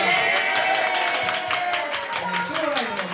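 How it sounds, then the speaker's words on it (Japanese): A crowd at a live event applauds a boxer steadily, dense clapping at moderate distance, with a voice talking over it. "藤中選手に大きな拍手をお願いします"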